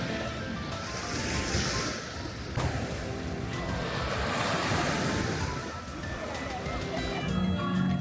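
Ocean surf rolls onto a sunny beach in a city by a volcano, a steady broadband wash with wind buffeting the microphone, loud and continuous throughout.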